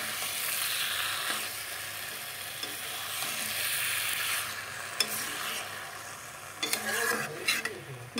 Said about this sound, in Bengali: মশলার সাথে সবজিগুলোকে কষিয়ে নিলাম।